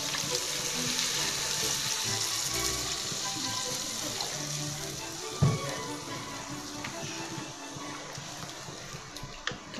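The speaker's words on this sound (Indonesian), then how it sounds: "Masukkan air." Water poured into a cooking pot while making peanut sauce, a steady rushing splash with a busy hiss, close and fairly loud, with a sharp knock partway through.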